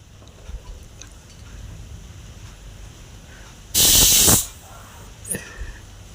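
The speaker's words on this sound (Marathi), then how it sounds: "त्यानंतर कुकरच्या 3 शिट्ट्या करून घ्या" A pressure cooker on the stove, cooking wheat kheer, releases a sudden, loud, roughly half-second blast of hissing steam. A fainter short hiss follows over a low background rumble.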